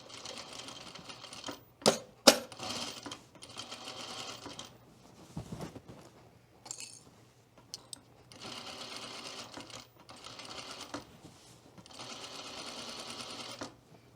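A home sewing machine stitches a skirt seam through thick layers in several close, steady runs, stopping briefly between them, with a couple of sharp clicks and a short pause in the middle.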